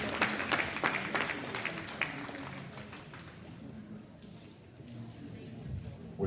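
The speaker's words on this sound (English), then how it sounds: "All four of y'all deserve a big round of applause." An audience at a cattle show claps in a burst of applause that is loud at first and then thins to scattered claps, with some talking from the crowd mixed in.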